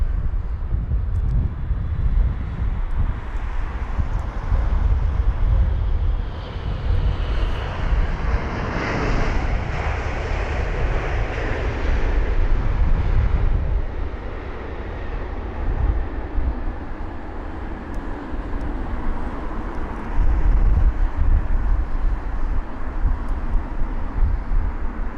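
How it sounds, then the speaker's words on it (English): A Kuwait Airways airliner passes at London Heathrow, its loud jet roar swelling to a peak midway and then slowly fading, with no talk. "That was the Kuwait Airways aircraft."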